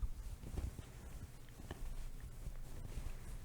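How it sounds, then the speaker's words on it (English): Soft, close rustling of fabric, with scattered light brushing and shifting noises, faint and with no talking. "a lot of fabric noises which sound like this."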